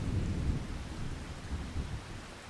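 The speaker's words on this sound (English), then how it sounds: "Ugh, I just hate that it's raining all day. The rain is killing us." Steady heavy rain with rolling low thunder rumbling through it in Farming Simulator 25, loud and continuous with no speech.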